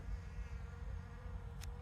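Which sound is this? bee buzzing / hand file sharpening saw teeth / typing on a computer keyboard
bee buzzing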